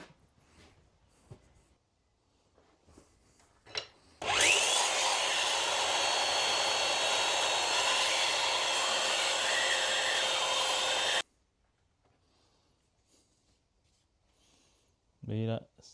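A small hatchet blade is sharpened on a powered grinder or sander for about seven seconds, a loud steady whirring hiss that starts and stops abruptly, with quiet handling noises around it.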